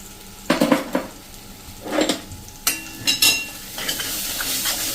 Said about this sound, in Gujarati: આ મસાલો આપણો એકદમ સરસ કૂક થઈ જાય ને ત્યાં સુધી આપણે 1 મિનિટ આ રીતે હલાવશું